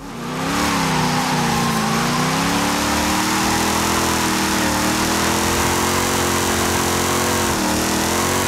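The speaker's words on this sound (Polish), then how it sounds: "ja zboostowałem mocno ten silnik, ale wydaje mi się, że on jest jednak nieco za słaby" A boosted lowrider engine in the Forza Horizon 5 racing game drones steadily and loudly for the whole stretch, holding a sustained hum with slight pitch wobbles and no talk over it.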